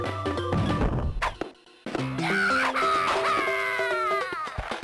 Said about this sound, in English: And that is the annoying crying of Kitty Kong.